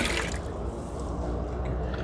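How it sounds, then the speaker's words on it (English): One liter of hydroponic nutrient part B poured into a hydroponic system, a steady close liquid pouring and splashing that runs unbroken for about two seconds. "Now I'm adding 1 liter of part B into the system"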